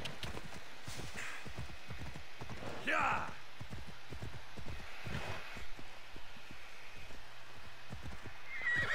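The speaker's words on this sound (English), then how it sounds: "Every time I call the horse, a cliff." A horse in Assassin's Creed Odyssey clip-clops in a steady run of close hoofbeats and lets out two loud neighs partway through, while a man murmurs briefly.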